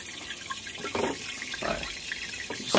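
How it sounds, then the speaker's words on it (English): Salt water gurgling and splashing as an aquarium siphon tube drains a saltwater tank, a steady close-up trickle with a few louder surging bursts. "I'm going to stop the siphon."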